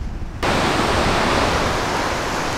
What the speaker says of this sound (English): we've just stopped off at a waterfall